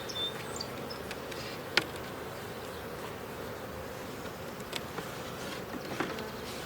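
Honey bees swarm around a deep brood box, a dense, continuous buzzing heard close by, with occasional louder buzzes as individual bees fly near.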